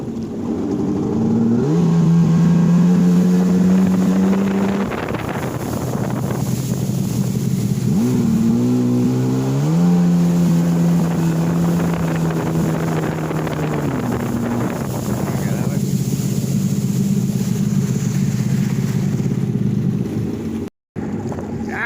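A jet ski engine drones steadily at about 28 mph, with heavy wind rushing over the microphone and the engine pitch rising and falling as it speeds up and eases off, near and loud throughout.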